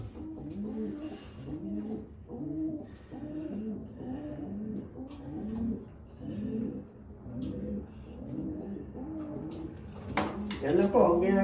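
Large Orange Slate pigeons kept at home make repeated low, throaty coos in a steady rhythmic series, close and clear, with a clatter and rustle near the end.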